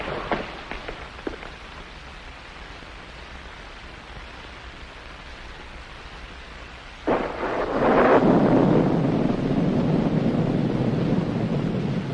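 Heavy rain pours in the 1948 western film Grand Canyon Trail. A fairly quiet, steady downpour with a few crackles swells suddenly partway through into a louder, rushing wash that carries on to the end.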